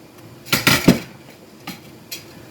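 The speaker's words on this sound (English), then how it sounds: "So I'm just gonna put all my dumplings in." Frozen dumplings go into a pot on a stove, giving a quick cluster of clanks and clinks of metal against the pot. A few fainter knocks follow against a quiet background.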